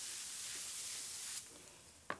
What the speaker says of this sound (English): I use very heavy starch with no flaking, and I'm gonna just spray my block.